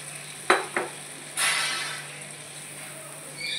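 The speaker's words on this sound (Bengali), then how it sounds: "এইবারে আমি এই যে সেদ্ধ করা ডালটা, গাজর দিয়ে মুগের ডালটা সেদ্ধ করেছিলাম এখানে দিয়ে দিলাম পুরো" Boiled moong dal cooked with carrot is tipped into a hot pan, giving two sharp clatters and then a brief sizzling hiss that fades to a faint simmer.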